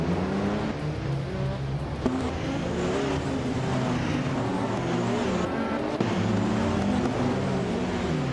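Race car engines from a 2015 Porsche 919 Hybrid in a racing video game at the Lausitzring DTM circuit roar loudly and continuously, with shifting engine pitches, cars passing by and occasional tire squeal, with no speech.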